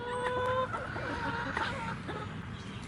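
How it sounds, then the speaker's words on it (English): Backyard chickens cluck close by in short, irregular bursts, with a few higher squawks in the first half and quieter murmuring clucks after. "Okay, chickies, come and get the grubs."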